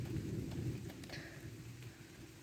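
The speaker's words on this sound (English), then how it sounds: "And it literally just started raining." Steady rain falling during a thunderstorm, a faint, even hiss with a low rumbling undertone throughout and no voices.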